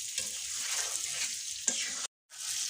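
An olive pickle mixture fries in a pan with a bright, continuous sizzle and light stirring scrapes, heard up close; the sound cuts out briefly near the end before resuming.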